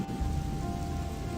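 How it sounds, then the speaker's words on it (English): Steady, dense rainfall from the video game Gothic II, a continuous hiss of drops on surfaces with low rumble underneath, holding constant throughout. "cool, rain."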